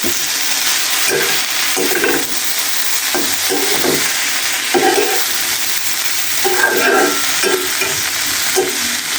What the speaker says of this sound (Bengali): এরপর আমি ঢাকনাটা নামিয়ে আর একবার নেড়ে চেড়ে দিচ্ছি